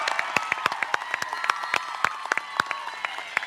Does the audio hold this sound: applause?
yes